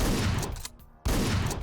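A harsh, buzzing crackle imitates getting tasered. A voice produces two loud, noisy bursts separated by a short gap.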